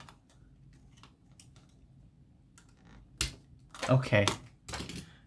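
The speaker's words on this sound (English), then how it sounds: "I'm just gonna snap these cables right at the base here." Mouse cables snapped at the base using an improvised tool, heard as sharp clicks and a burst of crackling, crunchy snaps late in the stretch after quiet ticking, with a brief spoken word.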